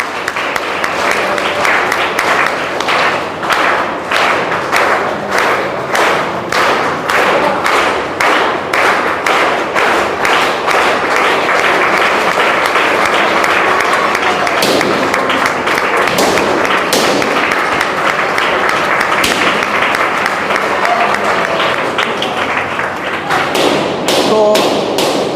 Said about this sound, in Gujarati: વગાડો તાળીઓ ત્યારે